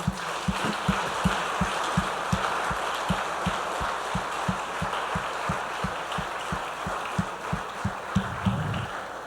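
Steady applause from a church congregation during an evening service, dense and continuous for about nine seconds, with a low rhythmic pulse of beats running beneath the clapping throughout.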